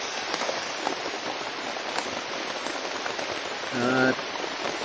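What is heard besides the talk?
heavy rain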